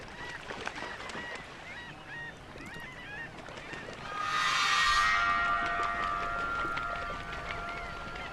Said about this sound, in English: There are lots of birds near the swampy areas